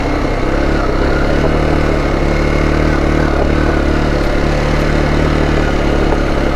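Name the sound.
motorcycle engine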